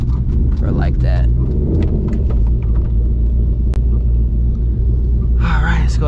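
A 2024 Ford Mustang GT S650 rumbles with a loud, deep, steady engine drone from inside the car while driving, and a person talks over it.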